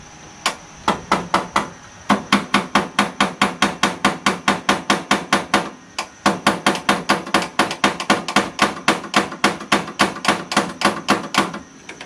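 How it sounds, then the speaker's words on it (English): Rapid, steady metallic tapping of a screwdriver against the starter solenoid on a Craftsman LT1000 lawn tractor with a rebuilt Briggs engine, dozens of sharp close hits in a regular rhythm with one brief pause, no talking. "you can take a screwdriver and tap the solenoid while you're cooking"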